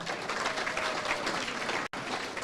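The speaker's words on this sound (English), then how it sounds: "Give that another round of applause now" A large crowd at a political party chapter launch in Florida applauds steadily, a dense continuous wash of clapping with a brief cut near the end.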